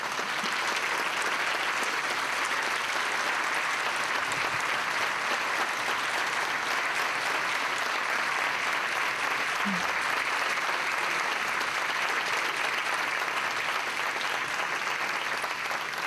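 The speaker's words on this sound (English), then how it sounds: "each and every one of them deserves the greatest round of applause ever." A crowd at a youth recognition awards ceremony applauds Mr. DeGrand's class in steady, sustained clapping that fills the room without a break, with no talk over it.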